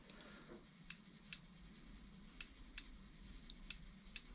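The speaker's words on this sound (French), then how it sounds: "le petit clic que vous entendez là, c'est pas le switch, c'est le fonctionnement de l'aiguille" A petrol fuel injector's needle being actuated gives sharp, faint clicks, about seven of them at irregular intervals over a quiet low hum, each one brief and crisp.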